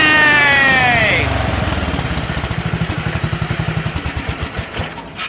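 A Bolens 1220 garden tractor engine starts and runs loud and close, its steady idle rising into a rev with a rapid, throbbing rhythm that continues to the end.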